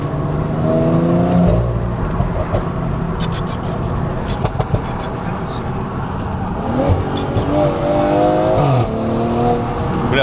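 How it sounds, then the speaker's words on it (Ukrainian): A Stage 2 tuned BMW M340i engine revs loudly up close, its exhaust letting out bursts of pops and crackles between rising and falling engine notes. People talk over the engine. "Пропердження такі класні."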